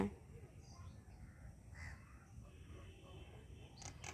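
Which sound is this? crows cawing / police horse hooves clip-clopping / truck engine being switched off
crows cawing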